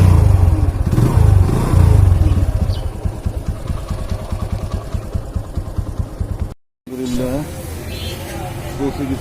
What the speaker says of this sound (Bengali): বিসমিল্লাহ আল্লাহ বলে বাইক স্টার্ট করি